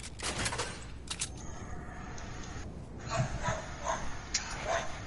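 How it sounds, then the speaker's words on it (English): A dog barks several times at a distance behind Fortnite gameplay, short sharp yaps in loose bursts mixed with game noise. "That dog's barking."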